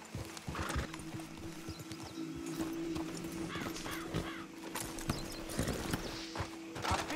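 Several horses in the video game Red Dead Redemption 2 clop along on hooves at a walking pace, with snorts and whinnies mixed in, steady and fairly close.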